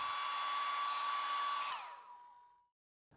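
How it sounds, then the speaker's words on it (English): A hair dryer blows with a loud, steady whoosh and whine, heating a OnePlus 9 phone skin, then switches off and winds down into silence. "To do so, grab your hairdryer."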